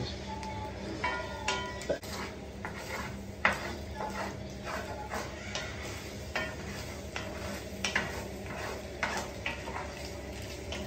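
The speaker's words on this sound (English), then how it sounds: "Give that a good mix." Rice is stirred into a cooking pot on an outdoor camp cook-up alongside mud crab, giving soft scraping and clinking of utensil against the pot over a steady sizzle-like background hiss, with occasional sharper knocks.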